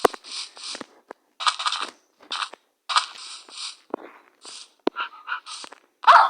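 Video game dogs bark in short, irregular bursts, several sharp yaps and woofs separated by brief silences, fairly close and clear.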